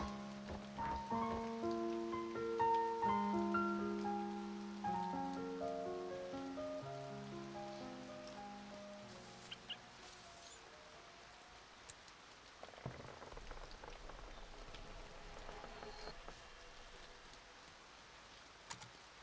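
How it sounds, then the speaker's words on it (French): Steady rain patters softly on a surface in the video game A Bird Story while gentle tonal music plays over the first half, then the rain continues alone with a few light clicks. "Donc, il aime bien la pluie, à ce que je vois."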